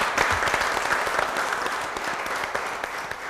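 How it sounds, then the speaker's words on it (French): An audience applauding a finalist at the Great Entrepreneur 2014 televised competition final, with thick, continuous clapping from a crowd that stays lively throughout. "On l'applaudit,"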